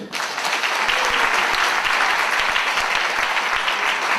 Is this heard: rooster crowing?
no